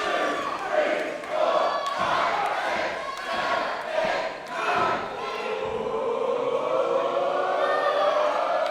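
A wrestling crowd at a Cardiff show roars and chants in rhythmic bursts, loud and close, as chops land, with sharp accented peaks through the first half before settling into a sustained, dense cheer.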